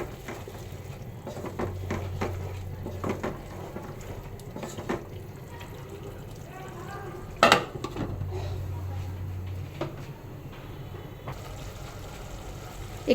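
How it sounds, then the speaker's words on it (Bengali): A spatula stirs small shrimp in a pan with a few clinks and scrapes against the metal, fairly quiet and close, with a brief sharper clatter midway. "আবার একটু নেড়ে দেব।"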